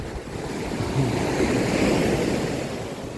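Sea waves wash onto a quiet beach facing Koh Chang as a continuous surf roar, with wind blowing over the microphone. There is no speech.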